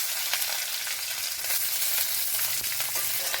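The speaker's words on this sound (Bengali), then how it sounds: "এখন কালো জিরে পুরন দিলাম, কাঁচা লঙ্কা কেটে রেখেছিলাম ওটা দিলাম।" Black cumin seeds and chopped green chillies sizzle in hot oil, a steady dense crackle of tempering from a pan, close and continuous with small pops and no talk.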